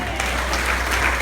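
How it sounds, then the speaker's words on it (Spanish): A church congregation applauds after a sermon on the Creed, a brief steady roar of many hands clapping together, dense and even, with a low hum underneath. "Damos un aplauso al Señor."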